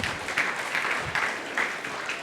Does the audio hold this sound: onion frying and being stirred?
no